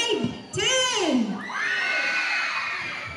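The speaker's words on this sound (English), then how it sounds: "I want to hear the screams from grade 10." Grade 10 students at a school activity scream and cheer together in a loud, sustained crowd roar that swells near the start and holds steady to the end.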